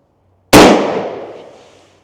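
A Stevens .410 turkey shotgun fires a single Winchester Long Beard TSS round, one sharp loud blast after a moment of silence, trailing off in a long outdoor echo.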